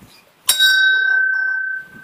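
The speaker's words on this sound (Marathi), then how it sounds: "तरी घंटी वाजली पाहिजे" A single temple bell is struck once, a bright clang that rings on with a steady sustained tone for over a second before fading, heard clearly and alone.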